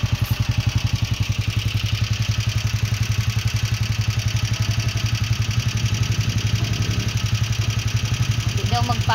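A motorcycle engine idles steadily and close by, with a low, even chugging pulse lasting throughout; a faint clatter enters near the end.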